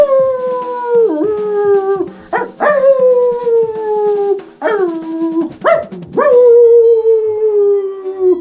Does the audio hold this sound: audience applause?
no